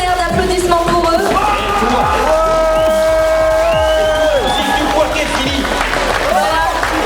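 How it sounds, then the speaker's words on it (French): A convention audience breaks into loud applause and cheering, with shouts, whoops and whistles rising over sustained clapping throughout. "Je voudrais un tonnerre d'applaudissements pour eux."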